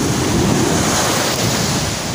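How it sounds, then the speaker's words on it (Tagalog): Strong storm-driven ocean waves pound steadily at a fishing spot, a loud continuous roar of surf mixed with wind buffeting the microphone, with no voices. "sobrang lakas ng alon ngayon"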